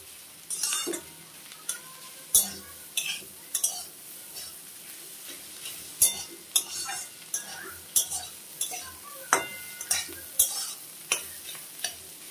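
Beans and egg sizzle in a pan while a spatula scrapes and stirs in regular strokes, each scrape clicking against the metal.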